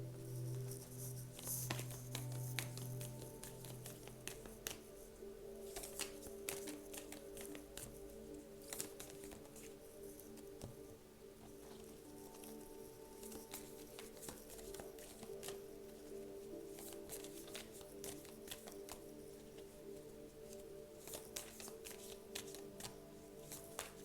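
Tarot cards shuffled by hand, a soft, rapid riffling and patter of card edges repeating in bursts, quiet and close against faint background tones.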